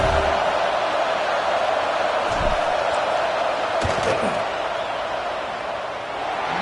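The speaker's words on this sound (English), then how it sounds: "This crowd trying to do its part to get inside the kicker's head." Stadium crowd roaring during a football field goal attempt in a game against A&M, a dense, steady wash of noise that holds throughout with a few faint thumps.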